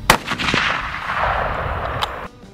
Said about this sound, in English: and I got to do a little shooting